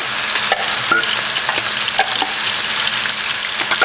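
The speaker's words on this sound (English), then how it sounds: "now I've got some oil heating in the wok" Oil heats in a wok with a loud, steady close-up sizzling hiss, dotted with small crackles and pops throughout.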